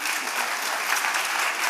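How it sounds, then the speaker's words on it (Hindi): Steady, dense applause from an audience for the performers of a children's theatre play at Pyare Lal Bhawan, continuous clapping at moderate level throughout. "सभी कलाकारों के लिए जोरदार तालियां।"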